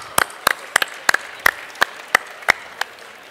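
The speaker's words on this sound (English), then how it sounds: "Applause for David Kinch." Sparse applause at a cooking competition final: about ten separate, evenly spaced sharp claps over three seconds, close and clear against a quiet room, with no voices.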